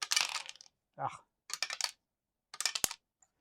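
Defense dice rolled during a Tide of Iron board game: several bursts of rattling dice clatter on a hard surface, each a short rough scatter of clicks, fairly close, with brief pauses between rolls.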